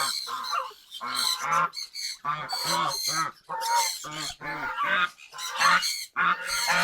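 Geese honking loudly and close in repeated harsh bursts with short gaps, several birds calling over one another.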